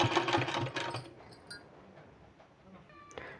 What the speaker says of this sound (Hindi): बिल्कुल सेंटर में ही हमको सिलाई लगाना है